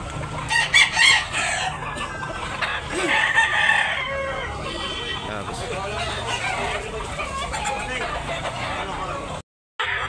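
Lemon Sweater gamefowl roosters at a farm in Tabunok, Talisay, Cebu, crowing loudly and clucking nearby, with someone talking over them and a brief dropout near the end.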